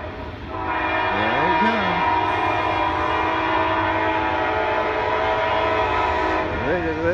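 A southbound freight train rolls past at close range as a steady, loud rumble of engine and wheels, with two long horn blasts sounding at the start and again near the end.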